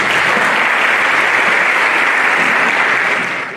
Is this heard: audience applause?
yes